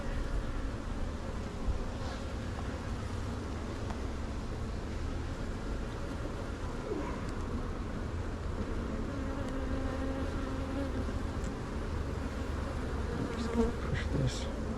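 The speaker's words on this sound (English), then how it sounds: "Very nice bees." Honey bees buzzing at an open hive with capped honey comb, a dense, steady drone that holds evenly throughout with no voices over it.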